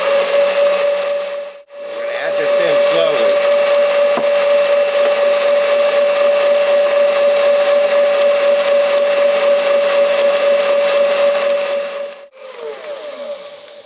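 An electric mixer whirs steadily through the liquid part of a fruitcake batter, a loud continuous motor hum running for several seconds, briefly cutting out near the start and again near the end.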